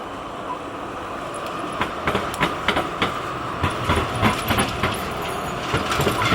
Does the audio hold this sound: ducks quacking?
no